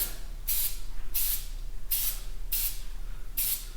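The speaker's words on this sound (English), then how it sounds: "So they said 3 inches away when you spray it, nice and even." Short bursts of aerosol spray oil applied to a Harley Davidson motorcycle air filter, five evenly spaced hisses about a second apart, close and fairly loud over a low steady hum.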